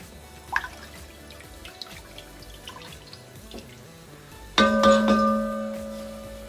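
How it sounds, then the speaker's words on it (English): French onion soup simmering in a pot gives soft, faint dripping and bubbling pops, joined near the end by a louder ringing clink or tone. "So the soup's simmering nicely now."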